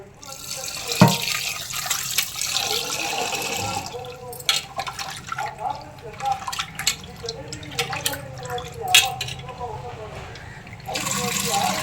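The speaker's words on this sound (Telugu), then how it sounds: "రొయ్యలు ఎంత కడిగితే అంత మంచిది, నీసు వాసన రాకుండా ఉంటాయి." Tap water runs into a kitchen sink as raw prawns are rinsed for a gongura prawn curry, with steady splashing and handling noises close by while people talk throughout.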